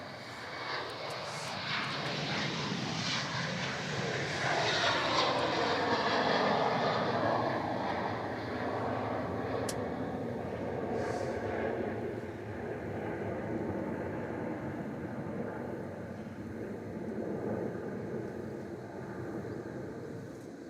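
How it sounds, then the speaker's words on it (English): A Jetstar Airbus A321 takes off from runway 16 at Melbourne Airport, its engine roar rising, swelling and slowly fading as a sustained rumble heard from a distance. "Jetstar rolling off 16 as well now. Yeah, that's the Sydney service with the 321."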